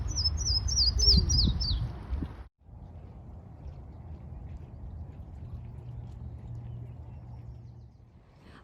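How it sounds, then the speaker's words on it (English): A yellow-throated warbler sings a bright, rapid series of descending whistled notes early, then fades, leaving a low steady rumble of background noise, at Eagle Creek Park. "I'm also hearing yellow-throated warblers"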